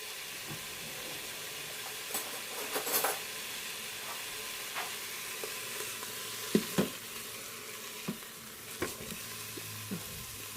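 Sausage fries in a little oil in the pot of an Aicok electric multicooker, a soft continuous sizzle with faint scattered pops and small clicks, quiet and close.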